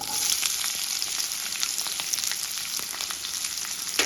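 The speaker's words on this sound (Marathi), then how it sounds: "हिरव्या मिरच्या टाकून घेतल्या आणि लगेचच मी कांदा टाकून घेते" Sliced onion and green chillies fry in a hot pan for a methi bhaji, giving a continuous, even sizzle that stays close and loud. No voices are present.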